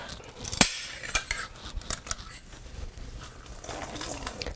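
Cooked potatoes pressed through a metal potato ricer for mashed potatoes, giving scattered metallic clinks and clatters against a bowl over soft kitchen handling noise.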